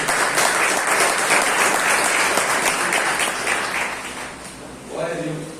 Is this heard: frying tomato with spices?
no